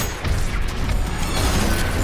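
Rail cannon firing in the video game Ultrakill, heard as a loud, dense burst that stays full and sustained for about two seconds, with booming low end and crashing noise throughout.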